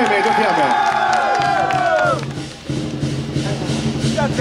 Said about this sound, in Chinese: 我们给龙珠妹妹一个精彩的掌声，好不好？